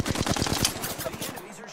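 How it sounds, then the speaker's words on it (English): Enemies fire rapid bursts of gunfire in a video game, a fast run of sharp shots at a steady rhythm that then thins out and fades over a quieter tail. "The enemies are shooting at me."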